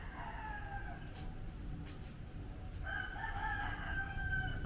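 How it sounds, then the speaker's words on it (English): Roosters crow in the distance on Nusa Penida, two drawn-out cock-a-doodle-doos rising over a steady rumbling background, faint but clear, with no voices. "I can hear so many cockerels."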